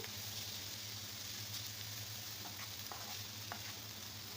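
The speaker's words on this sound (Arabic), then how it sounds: "قلبت كده البصل سوري الجزر المبشور" Chopped onion and grated carrot fry in a pan with a faint, even sizzle, while a spoon scrapes and taps now and then, and nobody speaks.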